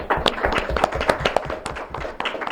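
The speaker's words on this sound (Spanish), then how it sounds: "Aplausos." Applause at a political assembly marking two years since a popular uprising, a scattered round of individual hand claps from a modest crowd, moderately close, with a bit of murmuring mixed in.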